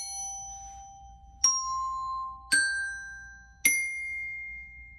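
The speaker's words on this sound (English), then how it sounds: "here's what it sounds like with brass mallet." Orchestra bells struck with brass mallets ring out three times at even intervals, each hit a bright, hard metallic ding with a long shimmering decay over a quiet low hum.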